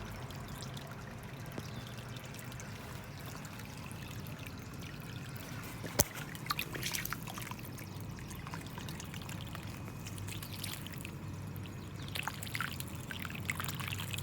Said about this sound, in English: I'm just letting it go in the little moat, doing it once, letting it fill up